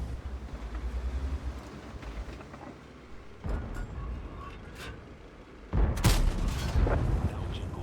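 Heavy booming tank cannon shots from a video game, a muffled blast midway and a louder, sharper one near the end, over a constant low rumble of battle ambience.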